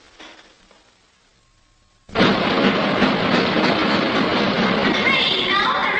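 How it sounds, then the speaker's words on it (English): A train pulls into a station platform. Near silence gives way to a sudden, loud, sustained roar and rumble of the arriving train. "Train now arriving at platform 1 is the 1-5 from Cambridge."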